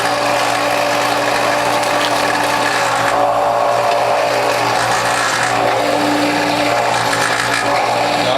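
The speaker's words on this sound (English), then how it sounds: "Now I notice my motor is working very hard" A juicer motor grinds and strains continuously while pressing collard greens, a loud, dense mechanical drone with rough churning and no pauses.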